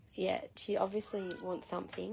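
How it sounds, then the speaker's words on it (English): A house cat meows repeatedly, several short rising calls in quick succession, close by and clear, while someone talks over the first part. "She's been meowing all live today."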